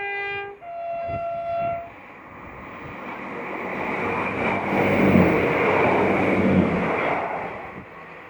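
A train rumbles past close by at Carreg Iago on the North Wales Coast Line, a horn blaring briefly at the start before a loud, steady roar of wheels and cars that builds and holds.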